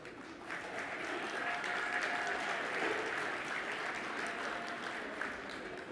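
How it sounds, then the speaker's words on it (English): Steady crowd applause, a dense wash of many hands clapping at moderate volume, sustained for several seconds. "hopefully that applause will be much more enthusiastic and genuine"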